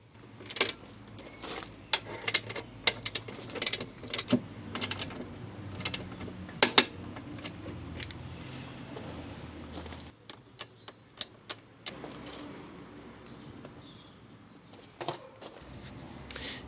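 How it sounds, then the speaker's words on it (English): Torque wrench ratcheting on the rear axle nut of a Honda NC750 motorcycle, scattered quiet clicks and metallic ticks in irregular bursts with pauses, close but faint. "now the next item on our list is to torque the rear axle nut"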